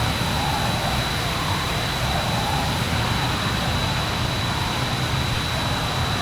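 Jet aircraft coming in to land in the video game ArmA 3, a steady, loud broadband engine roar with a constant high whine throughout, no talking.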